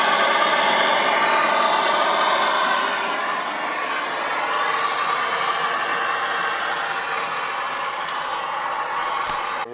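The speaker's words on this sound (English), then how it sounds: "he's going to get him with a heat gun now and get them warmed right up" Heat gun blowing steadily under a Transit van to warm the exhaust manifold bolts, a continuous broadband airy roar at moderate level, close by, with no talk.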